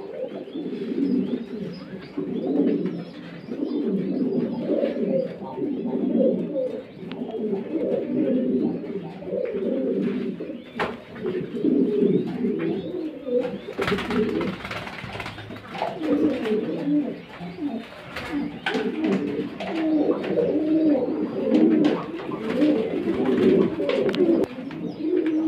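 Pigeons kept for breeding coo continuously in a loft, overlapping low throaty calls forming a steady murmur throughout, with occasional chirps and faint rustling.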